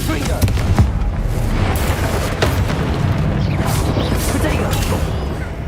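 Confringo blasting spell from the Hogwarts Legacy video game, heard as booming blasts amid dense game combat noise, with a loud burst near the start and continuous rumbling effects and voices throughout.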